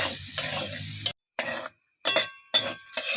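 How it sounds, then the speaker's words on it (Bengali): Potatoes with salt and turmeric sizzle and fry in a pan in several bursts, broken by short silences, with stirring scrapes and clinks close by. "আলুটা একটু লাল লাল করে ভেজে নেব"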